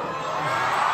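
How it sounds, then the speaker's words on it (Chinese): Concert audience of nearly ten thousand at an arena show in New York, screaming and cheering in a dense, continuous roar from the back of the hall, loud throughout with no clear talk. "後面嘅朋友嘅尖叫"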